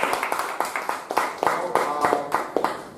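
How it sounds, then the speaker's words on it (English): Meeting audience applauding, a small group clapping in an uneven, fairly close patter of distinct claps that runs steadily throughout. "A big round of applause for all."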